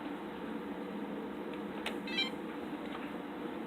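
A short electronic beep sounds briefly from a buzzer as a drone is armed, over a steady, fan-like mechanical hum.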